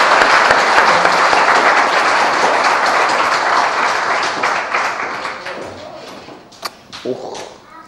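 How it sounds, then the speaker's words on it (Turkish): Warm applause at a community association show greets a performer coming on stage, loud at first and gradually thinning into scattered claps, a few knocks and thuds near the end. "Sevgili Yaman kardeşimi böyle bir canı gönülden bile alkışlarla sahne davet ediyorum."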